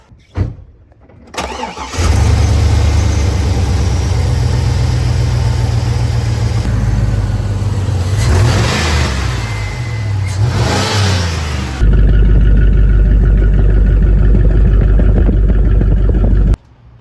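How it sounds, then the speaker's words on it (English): Car engine fitted with a homemade Home Depot cold air intake and silencer, revved up from idle with a loud, steady drone, a couple of rising and falling throttle blips mid-clip, then a deeper sustained rev near the end. "we're doing a sound test with the silencer on still, which is this thing. Yeah, it's just gonna hop in and rev it a little bit."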